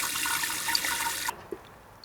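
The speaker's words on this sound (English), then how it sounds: "I'm just going to do a quick water test" Water is poured steadily into a succulent pot of cactus and succulent soil mix. The flow is a close, bright rush that cuts off abruptly, leaving a brief drip and a quiet trickle of drainage.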